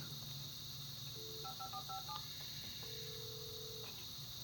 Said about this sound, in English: I better use the phone.